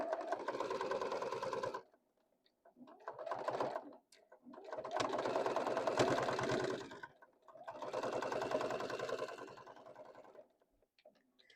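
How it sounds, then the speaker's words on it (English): A sewing machine stitches a fabric boxy bag in four steady running bursts separated by short pauses, close and fairly loud, with no talking. "And then we're going to stitch it."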